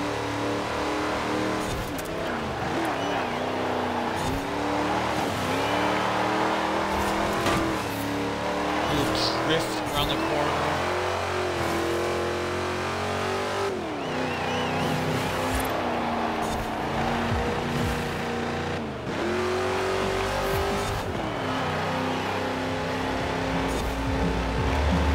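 An International Harvester truck from the Hot Wheels Legends lineup revs hard through corners in Forza Horizon 4, its engine note climbing and dropping steadily for the whole stretch under near-constant commentary.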